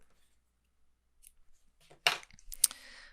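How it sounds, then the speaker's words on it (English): Scissors snipping crochet yarn after finishing a puff flower, a couple of short crisp cuts with small handling rustles in an otherwise quiet room. "we can go ahead and cut the yarn"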